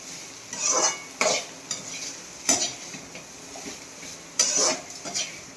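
Grated coconut roasts in a pan while a utensil scrapes and stirs it for coconut rice, giving several separate scraping strokes and clinks with faint sizzling between them, close and moderately loud, with no talk.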